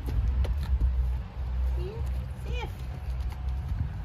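A horse's hooves clip-clop in an uneven walking rhythm on a farm, close and moderately quiet, while people talk softly nearby.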